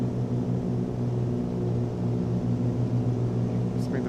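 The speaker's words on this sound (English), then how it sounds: "That's the sound of props out of sync." Twin-propeller Cessna 414 in Microsoft Flight Simulator with its two props out of sync, giving a steady droning engine hum that pulses in a rhythmic beating wobble, close and continuous throughout.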